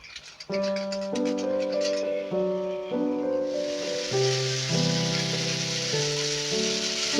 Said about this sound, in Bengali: ম্যারিনেট করা যে সয়াবিনটা ছিল সেটা এবার এতে দিয়ে ভালো করে আমরা ভেজে নেব